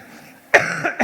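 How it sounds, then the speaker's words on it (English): Two close, loud coughs: one sharp burst about halfway through, then a second shorter one near the end, with a brief throat sound in between and quiet room air before. "I look like I'm going to cough."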